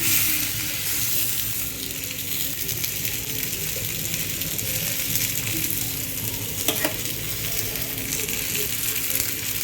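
Thalipeeth, a multigrain flatbread, fries in oil on a pan with a continuous close sizzle and soft crackling, steady throughout with a brief scrape near the end.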